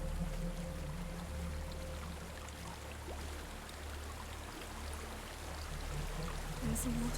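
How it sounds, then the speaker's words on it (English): A waterfall in the video game Hellblade: Senua's Sacrifice gives a steady, dense rush of falling water that continues unbroken beneath a low hum. "There's a waterfall."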